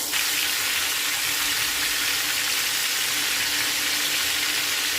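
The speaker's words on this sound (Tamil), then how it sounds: "அதை எடுத்து பொரிக்கிறோம்." Spice-marinated meat deep-frying for Arabian mandi biryani, a loud, steady hiss and crackle of hot oil that runs continuously without pause.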